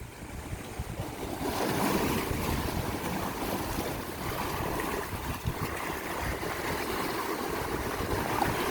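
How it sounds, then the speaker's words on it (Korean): Sea waves surging and breaking on a rocky coastline along a Korean coastal walking trail, a steady loud wash of surf with wind noise, no talking. "밀려오는 파도 소리에"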